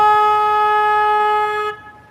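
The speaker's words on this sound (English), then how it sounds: "I gotta honk my horn real quick, okay?" A single steady car horn blast, loud and close, held for nearly two seconds before cutting off, with no talking over it.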